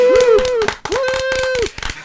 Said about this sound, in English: Thank you so much for clapping.